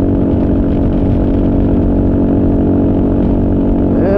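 A Kawasaki KLR motorcycle engine holds a steady high drone at about 90 mph on the highway, just under 6,000 RPM, loud and constant with heavy wind rush and no speech.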